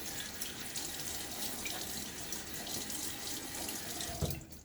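Water runs steadily from a bathroom tap into a sink while a face is wetted before a shave, a close continuous splashing hiss ending in a small knock.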